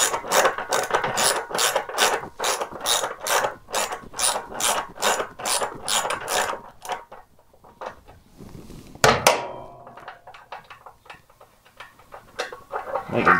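A hand ratchet clicks fast and steadily as it backs a nut off a gas tank mount on a fuel-injected Harley-Davidson Sportster. The clicking is close and loud for about seven seconds, then gives way to a metallic clunk and quieter handling noises.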